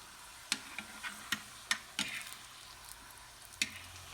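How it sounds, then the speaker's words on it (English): Taco shells frying in olive oil in a home kitchen, giving a quiet sizzle broken by several sharp crackles and pops spread across the moment, with no talking. "so we're moving on to frying up the shells"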